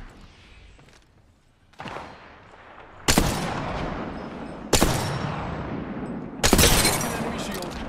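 Gunfire in the video game Armed and Dangerous, three loud, sharp bursts spaced about a second and a half apart, each trailing into a noisy rumbling decay over low game ambience.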